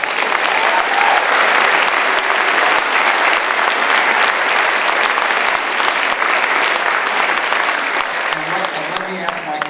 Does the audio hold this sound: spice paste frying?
no